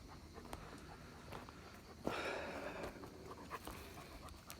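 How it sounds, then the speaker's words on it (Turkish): A neighbor's dog pants softly in a garden, quick faint breaths with a brief scuffle of movement partway through, fairly distant and low in level. "bu komşunun köpeği arkadaşlar"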